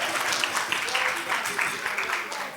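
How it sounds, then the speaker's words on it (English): An audience claps for participants at the launch of a digital anti-human trafficking course in Jamaica, a dense round of applause with a voice speaking over it. "A round of applause for all of our participants."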